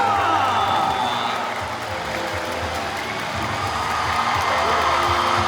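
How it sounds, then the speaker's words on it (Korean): A stadium crowd at a baseball celebration for the national team that won gold at the Hangzhou Asian Games, in a game against the Lotte Giants, claps and cheers in a steady, dense wash of applause with scattered whoops. "선수들에게 응원의 박수를 부탁드리겠습니다"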